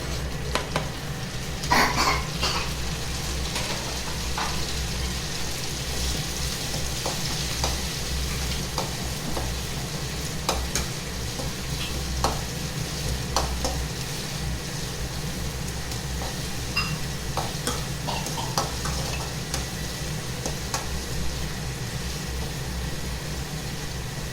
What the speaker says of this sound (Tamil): தக்காளி கொஞ்சம் வதங்குது.